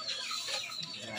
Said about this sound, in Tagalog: Ganyan ang buhay ng manok paghapon.